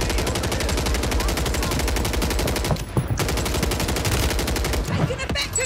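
Rapid automatic gunfire from Call of Duty Warzone on Rebirth Island, with a DG-58 LSW and Striker 9 in play, firing dense and continuous bursts close up, briefly pausing near the middle before resuming.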